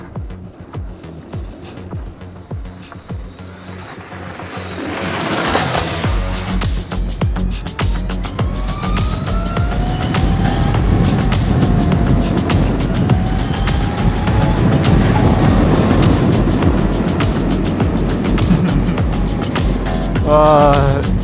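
A Zero SR/F electric motorcycle pulls away and rides on, its motor whine rising in pitch under steady wind and road rumble that build after a few seconds and stay loud to the end.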